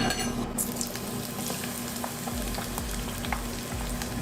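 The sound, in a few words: sautéing condiments in Lazada multicooker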